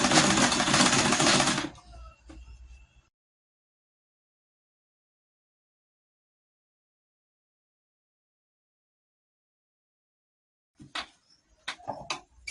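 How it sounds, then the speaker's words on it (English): A sewing machine stitching a box pleat blouse, a short loud whirring run of under two seconds, then a few faint mechanical sounds, long silence and scattered clicks and taps near the end. "So you keep sewing."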